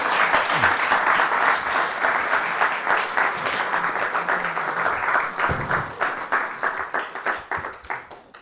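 An audience at a historical society lecture on Hingham's fish and fisheries claps in a full round of applause that thins toward the end into scattered separate claps.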